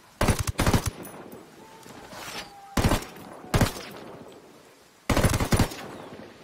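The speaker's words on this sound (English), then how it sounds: "Okay, shots are being fired." Bursts of fully automatic gunfire from the tactical shooter Ghost Recon: Wildlands, in several loud volleys separated by short pauses, with no talking.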